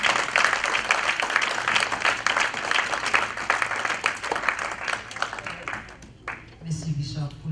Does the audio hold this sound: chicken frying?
no